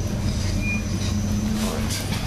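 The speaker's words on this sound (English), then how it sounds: "This is an intercity train, so" Intercity train between The Hague and Amsterdam, heard from inside as a steady low rumble and rolling wheel noise, with a brief faint high tone and light clatter, continuous and fairly loud.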